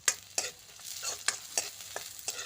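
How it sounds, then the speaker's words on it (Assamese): Onions fry in hot mustard oil in a wok, with a soft steady sizzle broken by a series of sharp scraping stirs at an uneven rhythm, close up and without talk. "তাৰ লগতে পিঁয়াজখিনি অলপ টাইম ভাজি থাকিম।"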